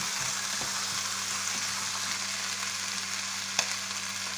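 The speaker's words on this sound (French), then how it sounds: "Là, on met notre oignon et notre ail. Voilà, on remue." Onion and garlic sizzle steadily in a hot pan, a constant close frying hiss with a faint clink near the end.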